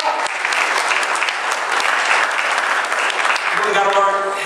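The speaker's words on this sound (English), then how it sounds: "Come on, give the Lord a hand clap of praise." A church congregation claps in praise, a loud, steady wash of many hands throughout, with voices rising over it near the end.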